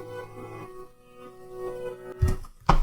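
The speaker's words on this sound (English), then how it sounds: "The first line I loved was an effects percussion line. It sounded like this." An effects percussion line from a remix: a murky, tonal electronic texture with wavering pitched layers, followed near the end by two sharp, heavy percussive hits, fairly loud and without any voices.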